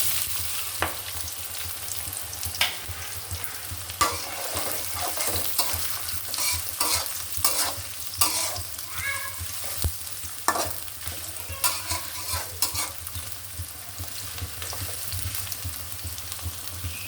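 Chopped onions fry in a pan while being stirred, a continuous sizzle broken by repeated scraping and clinking strokes of the spatula, close by and with no talk.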